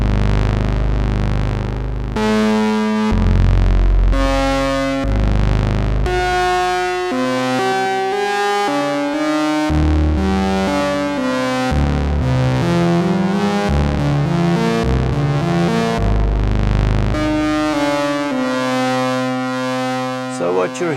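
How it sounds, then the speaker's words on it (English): A Doepfer A-110-6 thru-zero quadrature VCO switches between two waveforms at audio rate, giving a loud, continuous buzzy synthesizer tone whose pitch steps and slides through changing harmonic patterns, heard alone without talking. "So what you're hearing right now is only the switching at audio rates between the two waveforms from the Thru Zero Quadrature VCO,"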